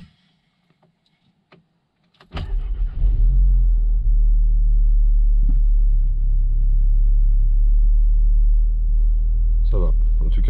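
An Audi S3 8V fitted with a new inlet and outlet starts after a few quiet seconds and settles into a deep, loud, steady idle rumble, with a brief blip of revs near the end.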